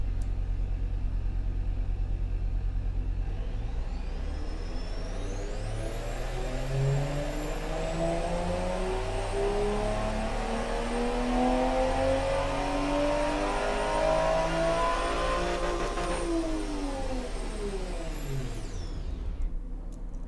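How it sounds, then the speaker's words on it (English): An inline-six engine in the Automation car game revs up steadily, its pitch climbing for several seconds before easing off, loud and continuous with no talking. "I just love the inline 6 sounds in higher RPMs."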